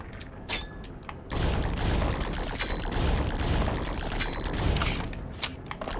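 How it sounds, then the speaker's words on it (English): A laser rifle in the video game Dungeon Munchies fires with a dense, sustained burst of crackling, booming discharge that starts abruptly after a short quieter stretch and holds loud for several seconds. "Let's see what the laser rifle do."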